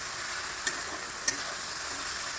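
Tomatoes and spices fry in oil in a pan for potol chingri, a steady soft sizzle throughout with two brief clicks of stirring, close and alone without voices.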